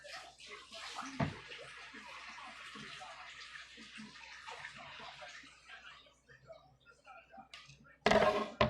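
Tap water runs and splashes steadily while an onion is rinsed during curry chicken prep, with a person talking over it, then a louder burst of gushing water near the end.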